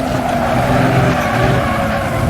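Winged 1930s Grand Prix race car cornering in Assetto Corsa, its engine droning loud and steady with tire scrub and a slight squeal under load as it understeers through a quick switchback, no voices.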